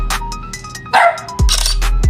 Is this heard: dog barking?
yes